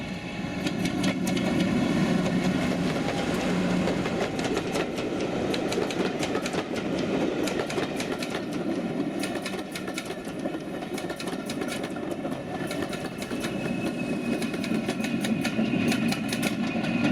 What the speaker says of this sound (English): we capture the Class 50 and the Class 40 heading down the Broadfield bank westwards into Bury